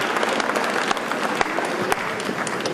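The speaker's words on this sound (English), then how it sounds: "Let's welcome her with a very, very, very, very, very loving round of applause." Audience applause fills a memorial tribute to a jazz singer, a dense, steady wash of clapping from a large crowd with sharper individual claps standing out, sustained loudly throughout.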